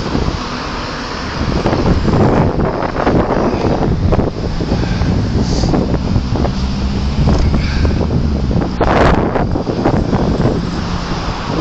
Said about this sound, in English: The wind is too strong for me even to be able to take the banner out.